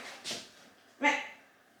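A pet dog gives two short yelps or barks, about a second apart, fairly close in a quiet home.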